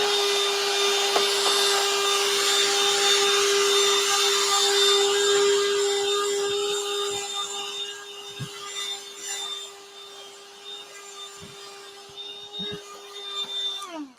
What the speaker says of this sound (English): let's use my little vacuum